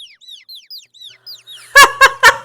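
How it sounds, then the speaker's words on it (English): Cartoon birds in the video game AI: The Somnium Files give a run of quick high chirps and tweets, then break into three loud, close clucking bursts. "Cartoon ass birds."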